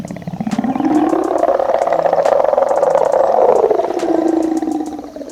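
A dinosaur in the Dinosaur Simulator video game lets out one long, loud, rumbling growl that rises and falls in pitch over several seconds, close and alone with no talking.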